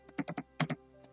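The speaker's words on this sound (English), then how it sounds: "In the address bar, you type in the following link," Quick keystrokes on a computer keyboard as a web address is typed into a browser's address bar: two short bursts of three and two clicks, close and fairly soft, with no voices.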